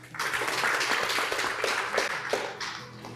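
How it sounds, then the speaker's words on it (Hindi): An audience at a rural community discussion programme breaks into loud applause, many hands clapping in a dense burst that holds steady before easing slightly near the end. "एक बार जोरदार तालियां हो जाए।"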